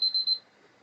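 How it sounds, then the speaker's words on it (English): A kitchen timer used while canning orange jelly beeps three rapid, high-pitched times in close succession, then falls quiet, with no talk over it. "Okay, so the timer has gone off."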